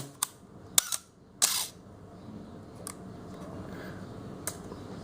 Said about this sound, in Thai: อันนี้ผมไล่ตามสปีดเลยนะครับ เมื่อกี้ชัตเตอร์บี สองวิหนึ่งวิ หนึ่งส่วนสอง